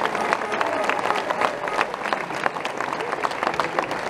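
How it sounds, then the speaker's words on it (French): A crowd at a hunters' demonstration outside a prefecture claps steadily and close by, dense rapid hand claps with a few scattered shouts from the gathering. "Le voilà, on peut applaudir."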